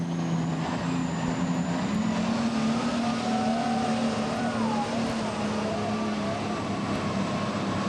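Loud, steady roar of a 1994 NTPA tractor-pull engine at the Heart of Dixie Grand National in Lexington, Alabama, a Case International 7240 pulling tractor, droning continuously with a sustained low rumble throughout.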